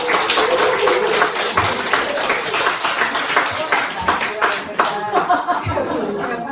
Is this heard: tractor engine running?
no